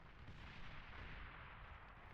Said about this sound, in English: Here's the explosion.